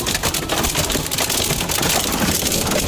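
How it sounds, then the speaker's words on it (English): Hail pounding down during a powerful Houston-area storm, a dense, continuous rattling patter of icy pellets striking surfaces nearby, steady and loud throughout with no voices. "the hail is also hitting"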